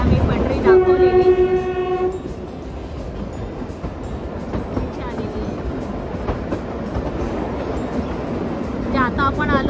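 The Shimla–Kalka toy train runs along its track and rounds a turn, its horn blaring loudly near the start over a constant rumble and clatter of the carriages, with a brief second honk near the end and some voices mixed in.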